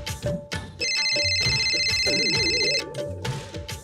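A telephone rings with a bright, trilling electronic tone for about two seconds, preceded and followed by muffled background sounds and a low warbling melody.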